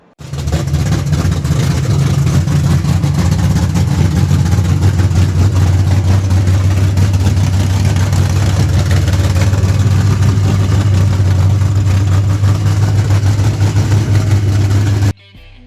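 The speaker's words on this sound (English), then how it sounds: "let's go ahead and listen to that beautiful small block 400." A Chevy small-block 400 V8 idles loudly and steadily up close, a deep low rumble holding for about fifteen seconds before stopping abruptly.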